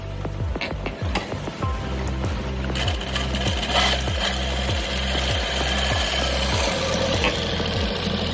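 A Usha industrial direct-drive sewing machine runs loud and close, its needle hammering in a fast, regular mechanical rhythm over a low steady motor drone, with no talking.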